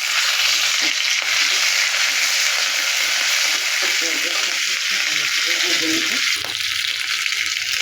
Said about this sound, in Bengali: আর একটু ভাজা হবে পেঁয়াজগুলো